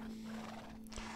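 Horses in the Minecraft video game, kept in a paddock, make a soft neigh and hoof sounds over a steady low game tone, faint and close, with no talk.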